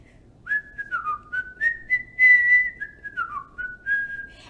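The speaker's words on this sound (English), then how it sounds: "He whistled all the way there." A person whistles a short, lilting tune alone, clear and close, in a run of quick sliding notes with brief gaps over a quiet background.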